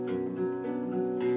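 A minor chord fingerpicked on acoustic guitar with alternating bass notes, soft plucked strings ringing together quietly and close.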